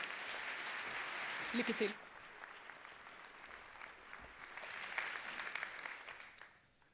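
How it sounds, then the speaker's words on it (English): Audience applause in a plenary hall at a library conference, steady clapping for about two seconds, then a brief spoken phrase, then a second swell of clapping that fades out. "Give him a big applause."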